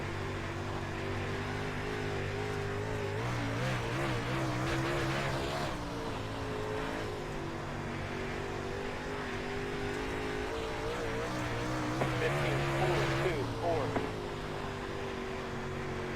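A late model race car engine drones steadily as it runs laps in a racing video game, a continuous humming roar with small pitch shifts, while someone talks over it.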